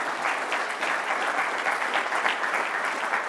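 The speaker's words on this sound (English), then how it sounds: "A round of applause for the judges," A crowd at an autumn awards evening applauds the judges, producing a brief, even wash of clapping from a full room with no break.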